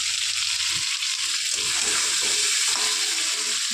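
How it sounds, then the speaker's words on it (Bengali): An egg coated in salt and turmeric fries in hot oil, giving a loud, steady hiss and crackle that fills the whole moment without pause. "ডিমটা একটু ভেজে নিই"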